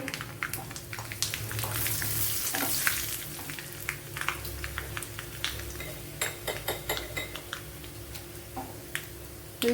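Dried red chilies and shallots dropped into hot oil crackle and sizzle steadily, with a spoon clinking against the pan in quick sharp taps toward the end, close and clear.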